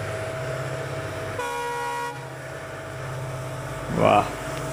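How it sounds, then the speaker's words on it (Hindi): Diesel locomotives in two striking colours pass a level crossing amid green countryside on Indian Railways, giving a loud horn blast of about a second over a steady engine rumble. A voice speaks briefly near the end. "वाह, डीजल राजा आ रहे हैं हरे भरे नज़ारे में, दो कमाल के रंगों के डीजल लोकोमोटिव"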